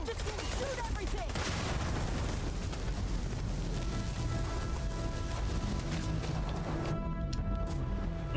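Dense gunfire from the Starfield video game on Xbox Series X rattles in continuous, overlapping bursts with booming impacts, a loud, busy firefight throughout.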